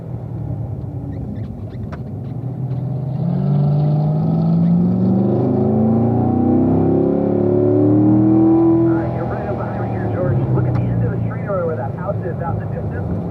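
A Corvette engine on the Spring Mountain race track drops a gear and then surges, its loud rising drone swelling through the middle and easing off, with someone talking over it.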